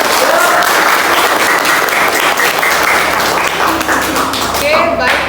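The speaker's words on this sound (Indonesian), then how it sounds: "Kita tepuk tangan dulu dong." Dense, loud applause from a classroom audience fills the whole span at a steady level, a continuous wash of many hands clapping close by with faint voices mixed in.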